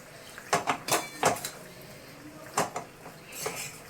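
A wok on a stove clanks and scrapes in a handful of sharp metal knocks, close by, with short quiet gaps between them and no talking.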